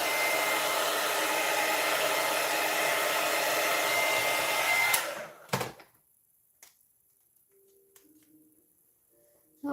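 A hair dryer blows steadily and loudly at paint on paper for about five seconds, then cuts off, leaving near silence with a few faint handling knocks.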